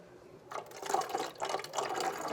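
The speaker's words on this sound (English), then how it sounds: "just pour water in. Okay, and you might be able to hear it going into the Keurig" Water poured from above into the open reservoir of a Keurig coffee maker, a broadband splashing trickle that starts after a brief quiet moment and runs in uneven surges, fairly close and moderately loud.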